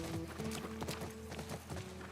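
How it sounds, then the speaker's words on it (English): Horse hooves clip-clop in a steady rhythm during riding in The Last of Us Remake, close and fairly loud, with faint game ambience behind. "Here we are in Remake, and time for the horse riding."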